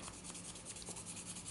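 A rubber pipe stem is rubbed with fine, high-grade Black Ice sandpaper, giving a faint, steady, close scratchy rasp with no pauses.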